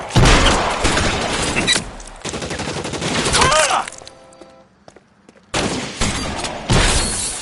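Loud video game gunfire on PS4 comes in heavy rapid bursts, breaking off into a quieter stretch with a ringing tone before the firing resumes just as hard.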